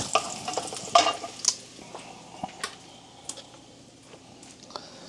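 Small pieces sizzle in a hot pan as a utensil stirs them, giving sharp scraping clicks and taps over a soft, steady fry hiss with no talking.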